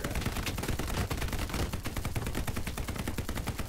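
Machine gun fire in a D-Day video game, rapid steady bursts of automatic shots rattling nonstop at close range, loud and sharp, with no talking over it.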